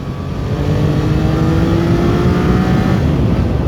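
A Triumph Daytona 660 motorcycle accelerating hard in fourth gear, a loud continuous engine roar with a slowly rising pitch, heard close with strong wind rush and no talking.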